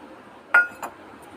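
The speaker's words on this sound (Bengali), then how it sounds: "এতে পরিমাণ মতো নুন দেব, একটা ডিম আছে দিয়ে দেব" Salt and an egg being added to a bowl of ground lentil paste, heard as two quick clinks of a utensil or shell against the bowl, close and fairly quiet, with no talking.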